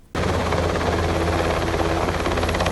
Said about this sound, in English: a Royal New Zealand Air Force NH-90 helicopter landing at Cromwell College